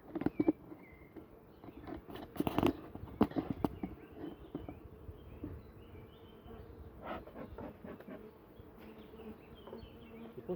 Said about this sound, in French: Depuis tout à l'heure, une abeille